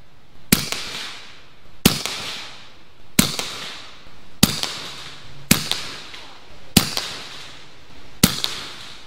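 A 9mm Bintac T9 pistol carbine fires at a target outdoors, with seven sharp, loud shots at a steady pace about one to one and a half seconds apart, each followed by a brief echo and no talk.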